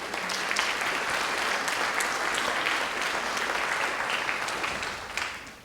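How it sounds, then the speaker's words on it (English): A crowd applauds steadily at a high school hall of fame ceremony, many hands clapping together in a dense, sustained burst that fades slightly at the end. "Mr. Dan Biggins, can we clap for him?"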